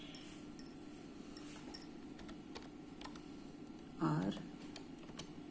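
Quiet computer keyboard typing while slides are made in PowerPoint, light scattered clicks spread out at an even pace, with a brief louder burst of voice or noise partway through.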